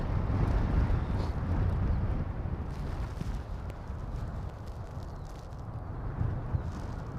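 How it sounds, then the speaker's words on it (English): Strong gusts buffet a handheld camera outdoors at Christchurch International Airport on a wet, windy day, producing a loud, continuous low roar that swells and eases without pause for the whole stretch. "Far out, that wind's strong."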